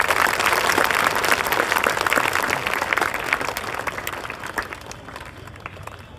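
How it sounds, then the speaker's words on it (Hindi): A crowd at a college event welcomes Professor Sarfaraz Nawaz with loud applause, dense clapping from many people that gradually thins and fades over several seconds. "जोरदार तालियों स्वागत कीजिए।"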